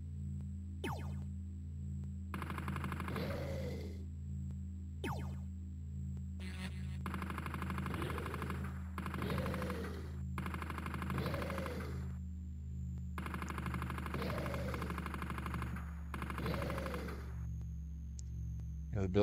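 Weapon fire in a retro video game: repeated short electronic shot bursts in a steady rhythm over a low droning synth loop, game sound alone at moderate level.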